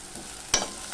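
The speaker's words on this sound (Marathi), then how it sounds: "आता आपण कांदा मिरची आणि कोथिंबीर व्यवस्थित परतून घेणार आहोत" Onion, chili and coriander fry with salt and turmeric in a pan, a steady faint sizzle with one brief scrape of stirring partway through, close and with no voices.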